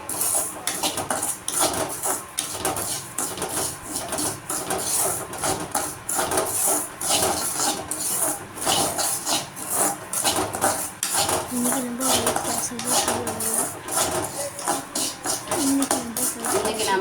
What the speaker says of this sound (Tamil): ரவை இந்த மாதிரி நல்லா வாசம் வர அளவுக்கு நல்லா வறுத்துக்கணும்